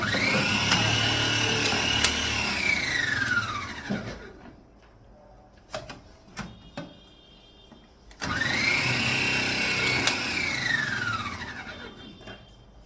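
An electric food processor motor whirs loudly while chopping for about four seconds, stops for a few quiet seconds broken by small clicks and knocks, then starts again in a second steady burst.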